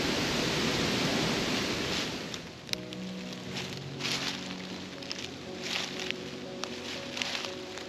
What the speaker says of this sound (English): Wind sure is picking up.